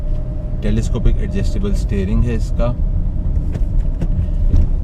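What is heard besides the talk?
Toyota Allion 2007 car driving on test drive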